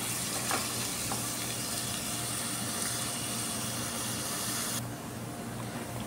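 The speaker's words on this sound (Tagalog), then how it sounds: "Igisa lang natin ang sibuyas hanggat lumabas yung kanyang aroma." Onion sautéing in olive oil in a pan, a steady close sizzle and hiss that keeps up evenly and then drops slightly near the end, with no talking.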